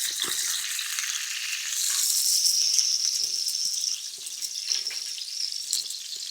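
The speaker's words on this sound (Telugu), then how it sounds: "ఇలా నూనెలో వేసి వేపుకోవాలి ముందు" Stuffed brinjal frying in hot oil, a steady bright sizzle with soft crackles and occasional stirring scrapes from the pan, moderately close and without talk.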